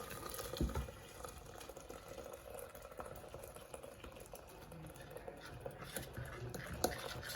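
Boiling water goes into a maize meal paste for sadza, a faint, quiet liquid pour and bubbling with soft scattered kitchen knocks, and no voices.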